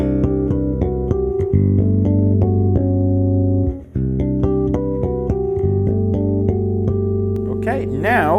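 Bass harmonics on an Enfield Lionheart bass, bridge pickup soloed with flat EQ: clear bell-like chiming notes ring out one after another and sustain, with a brief gap midway, loud and alone without talk.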